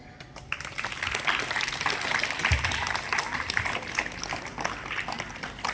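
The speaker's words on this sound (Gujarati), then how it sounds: "જોરદાર તાળીઓ." An audience applauds at a Guru Purnima celebration, a dense steady patter of many hands clapping for several seconds, moderately loud, with a brief low thump partway through.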